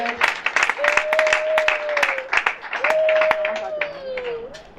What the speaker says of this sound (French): Can we clap for the word?